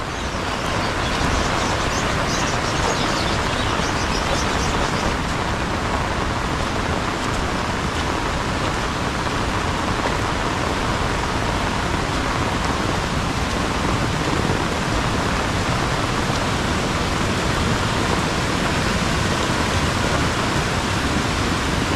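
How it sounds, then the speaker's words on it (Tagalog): Flood water pours over the edge of an overflowing pond in heavy rain, a dense, unbroken roar of rushing water and downpour that stays loud and even from start to finish, with no voices. "Yung pan natin mga kaprobinsya oh, umapaw na yung tubig."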